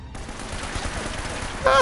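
Rapid video-game gunfire crackles in a dense burst, loud and close, over a short stretch with no talk.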